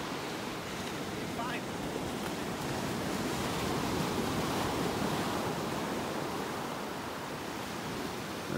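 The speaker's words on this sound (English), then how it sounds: "There's a sandbar out where you see these waves breaking." Ocean waves breaking over a sandbar off a Gulf beach at Delnor-Wiggins Pass State Park, a steady broad wash of surf with continuous wind-like roar, no distinct individual crashes, at moderate distance.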